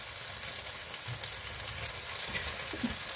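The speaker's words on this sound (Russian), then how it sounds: "Теперь мы добавляем сметану." Meat frying in a pan with flour as sour cream goes in, a close, steady low sizzle with faint soft stirring sounds, no one speaking.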